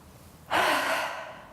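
A single deep inhale during a yoga shoulder lift, a long airy breath that swells suddenly, holds and then slowly fades, close and clear with no talking.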